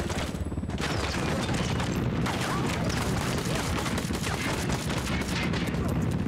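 Dense, loud gunfire from a flintlock in the game Ghost Recon Wildlands, rapid overlapping shots forming a continuous barrage with no pauses.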